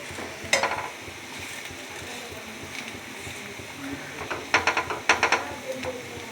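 Food fries and browns in a pan with a continuous soft sizzle. Sharp clattering scrapes come once early, then in a quick cluster near the end as the pieces are turned over.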